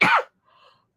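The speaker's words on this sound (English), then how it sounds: "I can't stop coughing." A single short, harsh cough from a person close to the microphone, followed by a faint brief trailing breath and then quiet.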